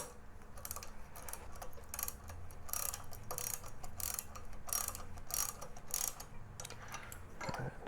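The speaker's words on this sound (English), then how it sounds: "So let me grab the other wrench and we'll cinch these down just a tad as well." A 7/16 wrench ratchets and clicks while bolts are snugged down during a Baja Designs LP6 light kit install on a Harley-Davidson Low Rider S, with close, steady mechanical ticking and faint handling noise and no speech.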